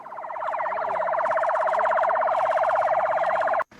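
Ambulance sirens wail along the Gaza border barrier during a medical workers' protest convoy. The rapid, warbling siren tone is loud and close and runs steadily before stopping abruptly.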